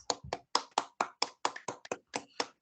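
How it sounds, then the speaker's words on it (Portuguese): A small group claps hands at a religious gathering, a sparse, uneven series of about a dozen sharp separate claps, close and fairly quiet with gaps between them. "A Jesus, as nossas palmas."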